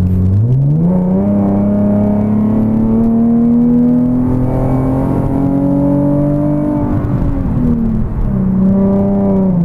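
A Nissan 370Z engine revs up and pulls hard into a passing lane, its pitch rising steadily and holding high before dropping back near the end, loud and close throughout.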